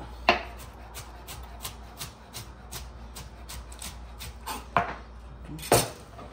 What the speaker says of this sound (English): So I'm going to shred my lettuce a little bit